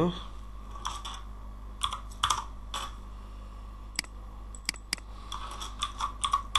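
A channel name is typed on a computer keyboard in irregular bursts of crisp, close key clicks separated by short pauses.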